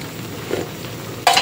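A spoon stirs Thai jungle chicken curry with holy basil in a pot, giving a soft scrape followed by a brief louder rustle, close by over a low background hiss.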